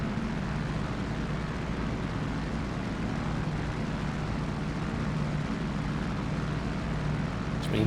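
An F4U-1D Corsair's radial piston engine drones steadily in flight in the DCS combat flight simulator, a loud, constant propeller roar with no break.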